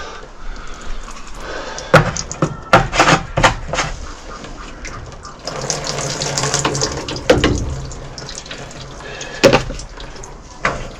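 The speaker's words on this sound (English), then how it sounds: "I'll just spray it with some water." Water from a hose sprays in bursts during servicing of a Doosan 7/120 portable air compressor, with short hissing gushes, a few sharp knocks and clanks in between, and a longer steady spray in the middle.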